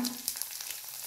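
Dried red chillies, mustard seeds and chana dal frying in hot oil, giving a close, steady sizzle with faint crackles in one brief burst.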